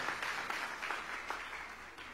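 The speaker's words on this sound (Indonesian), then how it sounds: "Tepuk tangan dulu untuk pria-pria yang luar biasa." An audience applauds a group of men called up on stage at a motivational event, a thick, even roar of clapping hands that stays steady and moderately loud throughout.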